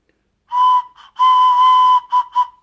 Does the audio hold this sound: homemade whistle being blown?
yes